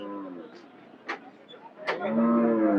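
Cattle at a busy livestock market, several distinct moos rising over a low crowd murmur, with people talking nearby throughout.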